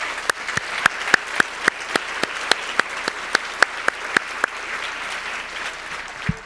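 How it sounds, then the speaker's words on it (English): Applause for the keynoters at a career-transitions talk session sounds thin and sparse, with distinct individual claps in an even rhythm rising from a quiet room and trailing off near the end. "I'd like to give another round of applause to all the keynoters"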